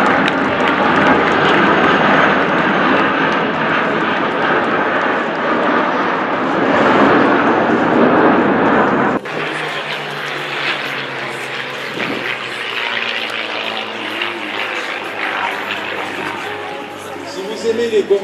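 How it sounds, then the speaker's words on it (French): Patrouille de France jets pass over the 2018 Le Bourget air meeting with landing gear down, lights on and half flaps, a loud sustained engine roar that shifts abruptly midway, with a commentator's voice running beneath. "le passage train sorti phare allumé demi-volet de la patrouille de France 2018"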